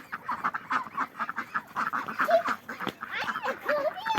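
Several ducks swimming on water quack and chatter in rapid, overlapping bursts close by, a busy flock calling continuously.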